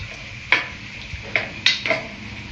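Vegetables frying in a pan for a chapathi veg roll, a soft steady sizzle broken by four or five sharp scrapes and clinks of a spatula stirring against the pan, close and fairly quiet, with no talking.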